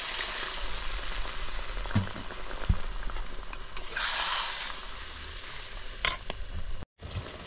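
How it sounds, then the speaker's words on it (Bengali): Tuna fish curry sizzles steadily in a pan as a little water goes in, a close, continuous hissing fry with a few stirring clinks before an abrupt cut. "এবার এতে দিয়ে দেবো অল্প একটু জল।"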